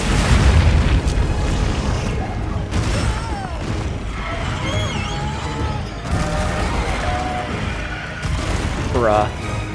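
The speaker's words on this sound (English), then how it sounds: "Careful. I set a bomb." A bomb goes off in the video game Pacific Drive, with heavy rumbling booms rolling through a dense bed of in-game mechanical noise and several sharp bursts spread across the stretch.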